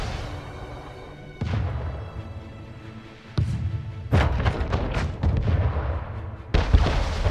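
Ship cannons fire in the naval combat of the strategy game Anno 1800, a series of booming shots at irregular intervals, some with sharp cracks, over a low rumbling game background.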